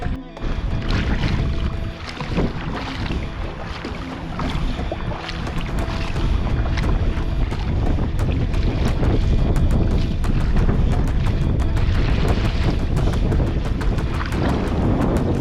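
Choppy waves on the Yukon River slapping against a canoe amid gusty wind, a loud continuous rushing wash with irregular splashes and hull knocks throughout.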